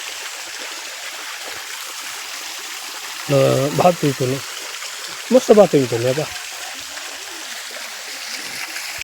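A continuous rushing of flowing water runs throughout at steady volume, with two short bursts of nearby talking over it.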